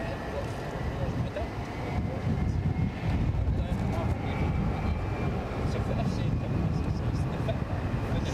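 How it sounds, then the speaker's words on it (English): Jet aircraft engine spooling up at Aberdeen airport, a broad steady roar close by that thickens after the first couple of seconds, with a person talking over it. "can I hear a jet start up?"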